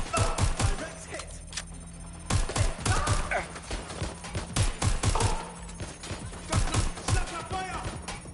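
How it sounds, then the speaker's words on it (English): Rapid bursts of video game gunfire ring out loud and close, clustered volleys with short gaps, layered over steady background game sound. "I'm taking fire!"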